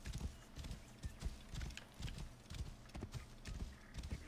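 Horse hooves in the video game Assassin's Creed Origins clop in a steady, rhythmic gallop throughout, close and continuous with no talking.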